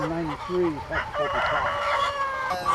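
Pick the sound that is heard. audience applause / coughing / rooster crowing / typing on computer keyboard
rooster crowing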